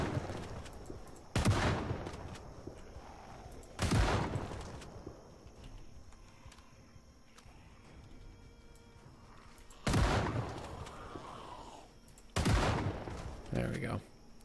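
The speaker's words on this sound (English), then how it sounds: "I hear the gunshots in the distance from you two." Distant gunshots in the zombie survival game Project Zomboid, four loud broadband cracks spaced a few seconds apart, each trailing off over a murmuring background with faint voices.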